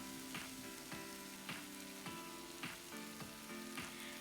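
Vegetable bhaji sizzles and fries in a pan, a steady loud sizzle broken by regular scraping stirs roughly every half second, with no voices.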